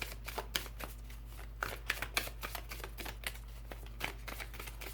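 Oracle cards being handled and shuffled, a series of crisp close riffling and flicking bursts at uneven intervals over a low steady hum, with no talking.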